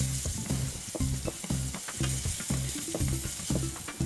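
Garlic, shiitake and wood ear mushrooms sizzle steadily in a hot pan, with rhythmic scraping strokes of a utensil stirring them about once every half second, close and fairly quiet with no talk.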